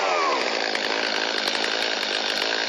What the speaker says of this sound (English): is have a little fun with a chainsaw.